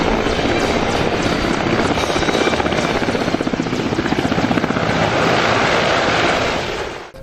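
A military helicopter's rotor thumps and turbine roar fill the scene loudly and steadily for the whole stretch, with wind-like broadband noise, then cut off abruptly at the end.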